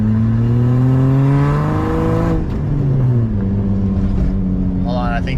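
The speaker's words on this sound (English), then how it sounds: "I am going to put a muffler on this because I'm not a huge fan of it being this straight piped" A straight-piped BMW E30 engine drones loudly and close, its steady harmonic tone climbing under acceleration then dropping as it shifts, with faint voice-like sounds near the end.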